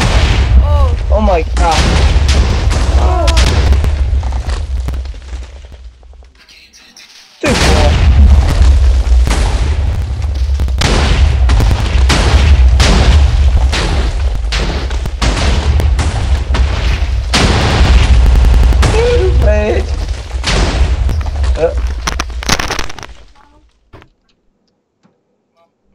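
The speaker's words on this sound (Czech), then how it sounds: "vidíte, co způsobí jenom pár TNTček" Several TNT blocks detonate in a video game demolition, a long chain of loud booming blasts that stops briefly, then resumes with dense rumbling explosions before fading to silence, while a voice gasps and exclaims over them.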